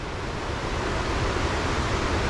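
Floodwater rushes across a hiking trail on the Appalachian Trail, a steady, loud, close roar of flowing water with no break and no voices.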